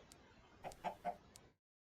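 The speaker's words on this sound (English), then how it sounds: "We have some chicken spawns" Chickens in the Minecraft ATM9 Skyblock game give a few quick, soft clucks in a short cluster, faint and alone before cutting to silence.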